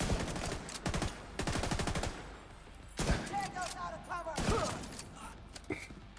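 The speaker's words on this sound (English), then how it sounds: "That guy's shooting." Video game gunfire comes in rapid automatic bursts that stutter in quick rhythmic clusters, then gives way to a few heavier single shots with ringing tails, loud and close, all under a steady bed of game background noise.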